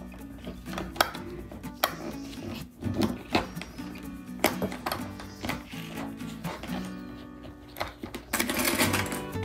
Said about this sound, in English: At this point, you will stitch your pieces together now.